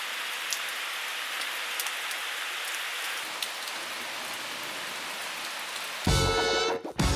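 Steady rain falling outdoors makes a dense, even hiss of drops on surfaces throughout, with a brief louder rustling burst near the end.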